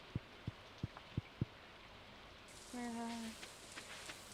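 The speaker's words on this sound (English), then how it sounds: "it's raining today" Rain in the Stardew Valley video game, a soft hiss of falling rain that sets in halfway through, after several short thuds and alongside a few brief game tones.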